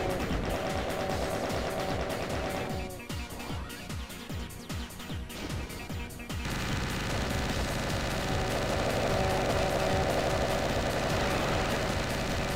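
A minigun in a video game fires at drones in long continuous roaring bursts, dense and loud, with a brief stretch of choppier shots midway before the sustained spin-up fire resumes.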